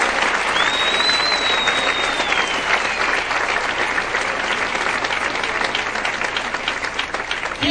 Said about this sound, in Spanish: ¿Puede aplaudir en esta noche al Señor?